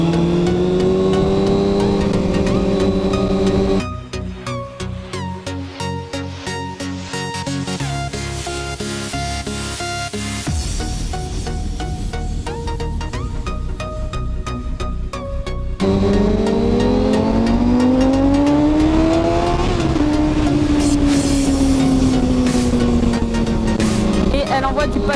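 A Kawasaki Ninja ZX-6R motorcycle engine revs up and down in loud sweeping pitches, with a drop to a lower, rougher passage midway before climbing revs return, close and dominant.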